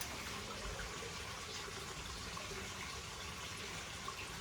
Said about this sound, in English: Let the water flood out